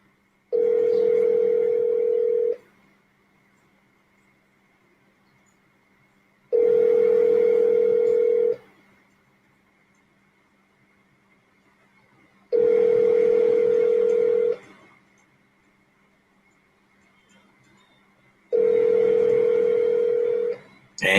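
Outgoing phone call ringback tone heard from a call being placed during a sports interview show: four long steady buzzing rings, each about two seconds, separated by roughly four-second silences, loud and close over faint background hiss.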